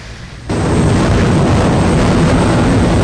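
A small, rugged propeller plane takes off in ARMA 2 desert combat. Engine roar starts abruptly and then holds steady, loud and close, as a broad, continuous drone with no voices.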